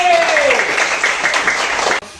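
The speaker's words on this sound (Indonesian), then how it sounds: "Tepuk tangan untuk Kak Suhabe." Applause from an audience at an academic supervision coaching session, a dense steady patter of clapping that fills the moment and cuts off abruptly near the end, with a descending tone sweeping underneath at the start.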